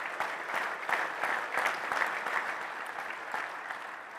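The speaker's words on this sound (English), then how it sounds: "Give him a great big round of applause." Audience applause at a legislative conference, a steady wash of many hands clapping in a large hall, sustained and even throughout without pause.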